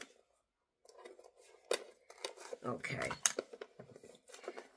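Snipping and rustling of scissors working through packaging, a few sharp cuts mixed with crinkly handling noises, close by and fairly quiet.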